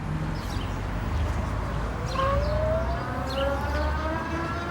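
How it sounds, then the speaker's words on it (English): A rising electric motor whine from a DYU C2 electric bike under throttle-only acceleration climbs in pitch as it speeds up, steady and fairly close, with faint outdoor noise and birds in the background. "The motor is a little bit noisy once it starts to accelerate"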